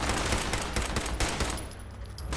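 Rapid automatic gunfire in the video game Fallout 76, a dense, loud burst of repeated shots that thins out toward the end.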